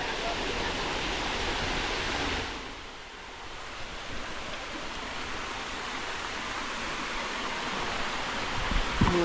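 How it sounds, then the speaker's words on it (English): A waterfall on a hiking trail near bluffs and creeks in Branson, Missouri, rushing as a steady broadband roar that fills the whole stretch, briefly dipping midway before swelling back strongly. "Look at this waterfall."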